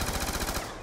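Rapid gunfire from the Executioner revolver in Black Ops 2's Mob of the Dead zombies mode, a dense run of loud repeating shots that fades out over under a second, with no talking.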